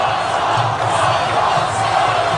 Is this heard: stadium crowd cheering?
yes